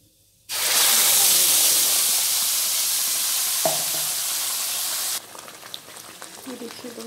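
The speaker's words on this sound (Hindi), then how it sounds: "ये देखिए हमारा तेल गरम है, उसमें सबसे पहले थोड़ी सी हल्दी पाउडर डालेंगे।" Turmeric powder hitting hot oil in a kadai, a sudden loud hiss that erupts after a quiet moment, holds for several seconds with a small clink, then drops abruptly to faint crackling.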